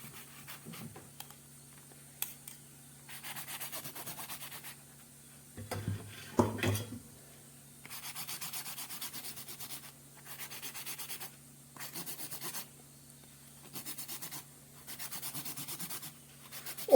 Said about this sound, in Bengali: পটলগুলোকে আমি এই এইটার সাহায্যে এরকম করে ঘষে ঘষে নেব ওপরটা প্রথমে।